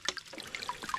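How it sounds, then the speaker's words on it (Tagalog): Spring water running out of a pipe or outlet, a steady close trickle and splash with bright gurgling spurts throughout, alone with no talk. "Tubig naman yan sa bukal."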